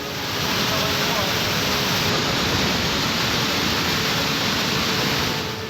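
Floodwater from a hillside pours as a torrent into the Kedareshwar temple grounds in Ratlam during heavy rain. It makes a loud, constant roaring rush that stays unbroken throughout.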